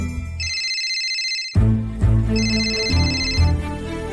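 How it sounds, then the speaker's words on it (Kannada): A mobile phone ringtone plays loud and close, a bright repeating electronic melody that cuts out briefly, then resumes with fuller, lower tones, heard alone without talk. "ಅಯ್ಯೋ ಸಾಲ ಕೊಡೋರ್ ಫೋನು, ಏನ್ ಮಾಡ್ಲಿ ಇವಾಗ?"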